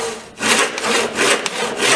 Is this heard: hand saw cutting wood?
yes